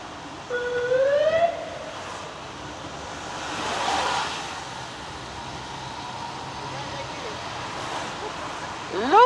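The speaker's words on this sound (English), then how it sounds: "Ooh, the police is coming around. Let them go through." A police car siren passes through a plaza in Madrid, its rising and falling wail loud at first, fading into city ambience, then swelling again near the end as people talk.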